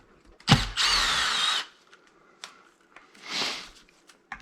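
A power driver fitted with a 3mm hex bit whirs loudly in two bursts as it backs screws out of an RC car's center differential, with a short grinding start and quieter ticks between.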